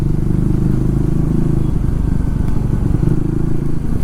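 A Triumph Tracker 400 motorcycle engine runs steadily and loudly on a test ride over rough roads in Tinsukia, with a continuous low drone and some clatter, close to the listener.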